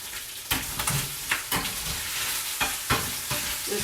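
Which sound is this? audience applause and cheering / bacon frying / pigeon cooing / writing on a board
bacon frying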